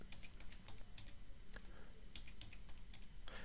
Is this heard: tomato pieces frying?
no